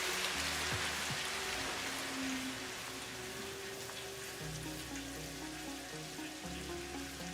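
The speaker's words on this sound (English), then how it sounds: "I really like the sound of the rain." Steady rain patters and hisses in the video game Satisfactory over a quiet, low background hum, with no voices.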